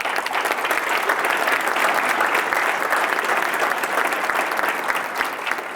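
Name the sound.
audience applauding school district staff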